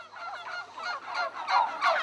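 A domestic turkey gobbles in repeated rippling bursts that grow louder toward the end, close and alone with no talk.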